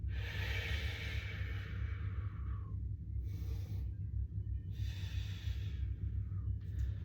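Forceful breaths out during a standing core-bracing exercise with knees bent, heard as three hissy exhalations of a few seconds each over a steady low rumble, with no talking.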